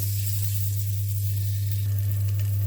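Masala roasting in a pan for egg gravy: a continuous, close sizzling hiss over a steady low electrical hum, with no voices.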